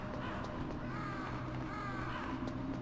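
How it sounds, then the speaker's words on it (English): Crows caw repeatedly in the Metal Gear Solid video game, harsh calls layered over a dense, loud game soundtrack and ambience. "Why are there crows coming from everywhere?"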